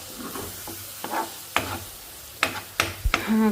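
Bitter gourd and onion fry in a pan on low heat, a steady close sizzle broken by several sharp scraping stirs of a spatula against the pan. No one speaks.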